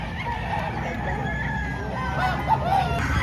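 Roosters crow and chickens cluck continuously at a busy poultry market in Padre Garcia, Batangas, the calls overlapping steadily against a thick bed of crowd and background noise.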